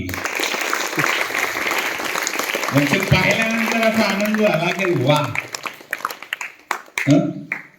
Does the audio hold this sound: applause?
yes